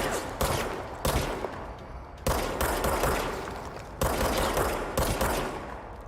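Gunfire in the video game Alan Wake's American Nightmare arrives as sharp, loud bursts every second or so, each one starting abruptly and then trailing off into a decaying roar before the next.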